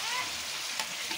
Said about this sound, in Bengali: এখন মাছ দিয়ে দিলাম, বড় বোয়াল মাছ।